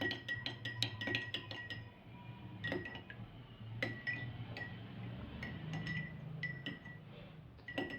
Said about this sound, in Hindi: तो 1 चम्मच से इसको थोड़ा सा ऐसे हिला लेंगे जिससे कि इसके अंदर अच्छे से मेल्ट हो जाए